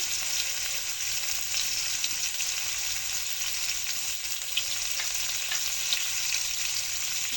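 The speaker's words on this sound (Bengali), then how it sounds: "এখন এই তেলের মধ্যেই সাজনা আর আলুগুলো বেছে নেব" Drumsticks (moringa) and potato pieces fry in hot oil with salt, giving a steady, loud bubbling sizzle close by and no one speaking.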